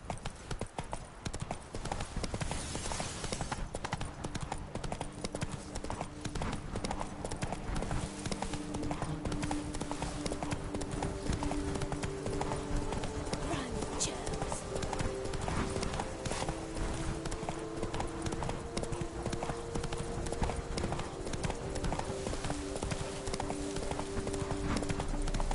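Hooves clip-clop steadily as a horse trots through an open outdoor area in the video game Witcher 3, Toussaint region, with a constant, fairly loud rhythm over ambient game sound and occasional faint whinnies.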